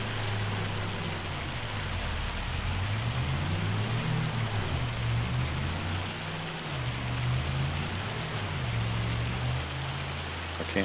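Rain in a farming video game falls as a steady, even wash of hiss. Underneath, a low engine hum rises and falls as a machine works, and no one speaks.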